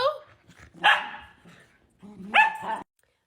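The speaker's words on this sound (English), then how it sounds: "Ignore my dogs, please." Two bursts of barking from pet dogs indoors, each short and fairly loud, separated by a quieter pause, with faint sounds in the background.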